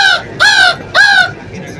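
A man imitates a crow, giving three loud, nasal caws in quick succession, each about a quarter second long and separated by short pauses, with faint room noise underneath.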